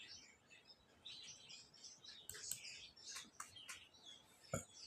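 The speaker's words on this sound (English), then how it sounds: "there were some birds which were making noise outside, just here outside the door" Small birds chirp outside a door, faint scattered tweets and short calls over quiet room ambience, with one sharper click near the end.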